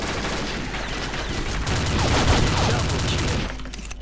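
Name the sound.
Scar L rifle gunfire, Combat Arms video game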